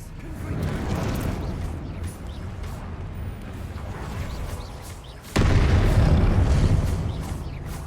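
Spells cast in combat in Hogwarts Legacy, a PC video game: a dense, continuous barrage of booming blasts and explosive bursts, loud throughout, with a sharper, heavier surge of blasts partway through.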